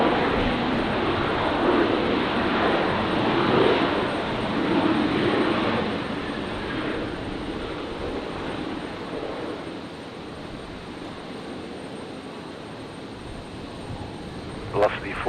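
A jet airliner climbs away after takeoff from Brisbane Airport on a stormy night, its engine roar broad and steady at first, then slowly fading into the distance with a faint radio voice at the very end.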